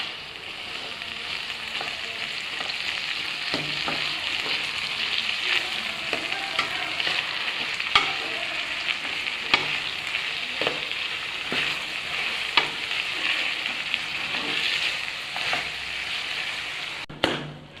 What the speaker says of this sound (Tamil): தக்காளியை போட்டு நல்லா வதக்கிக்கோங்க.